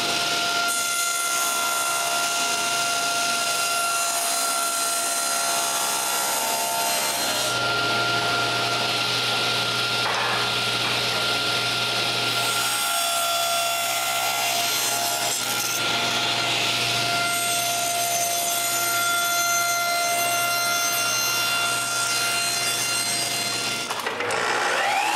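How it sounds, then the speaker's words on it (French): Wooden blocks having their corners cut off with a saw, a steady continuous grinding rasp that runs throughout with shifts in pitch and intensity, loud and close. "Je marque les trois blocs en même temps et je coupe les coins."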